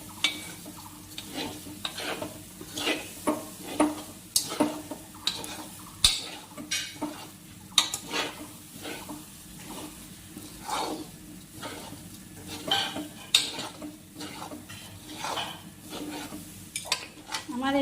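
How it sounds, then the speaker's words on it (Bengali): Gobindobhog rice pulao with sugar being stirred and fried in a pot, with repeated scraping strokes of a spoon over a steady sizzle, close and fairly loud throughout. "এবার চিনিটা দিয়ে আবার 5 মিনিট এটাকে ভেজে নেব।"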